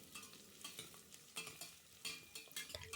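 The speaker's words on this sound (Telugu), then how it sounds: "ఆనియన్, పచ్చిమిర్చి వేసుకొని ఫ్రై చేసుకోవాలి." Onion and green chillies fry in oil in a pan for a chicken sambar, a soft close sizzle broken by repeated stirring scrapes and clicks of a spoon, quiet and without speech.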